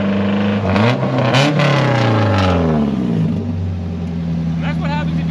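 Loud, annoying straight-piped Volvo 240 running without a muffler, the engine revving up and easing off in close, rough sweeps while people talk over the exhaust drone.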